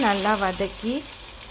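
Onion, tomato and chili sauté in a pan for restaurant-style kara chutney, giving a soft steady sizzle under a louder tonal, humming sound that fills the first second before fading.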